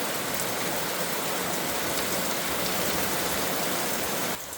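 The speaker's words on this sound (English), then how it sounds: "it just unloaded and started pouring down rain" Heavy rain pours down steadily outside a garage, a dense, loud, even hiss of downpour filling the whole stretch with no voices, cutting off abruptly right at the end.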